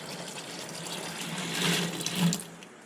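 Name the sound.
water being poured into a bottle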